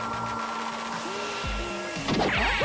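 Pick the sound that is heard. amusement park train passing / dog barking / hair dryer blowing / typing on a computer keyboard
hair dryer blowing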